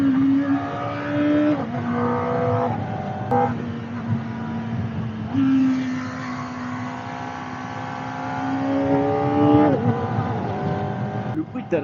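Kawasaki ZX4-RR motorcycle engine revving hard and climbing through gears, with rising high-pitched whine and shift dips, loud and close throughout.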